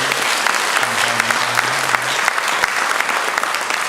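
A church congregation applauds in welcome during a Sunday morning service, dense steady clapping filling the hall for the whole stretch, with a low voice faintly audible underneath.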